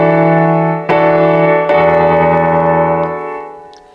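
A sustained keyboard-like chord with the fifth in the bass under the four chord, struck three times in succession, each attack ringing and slowly decaying, loud and close with no talk.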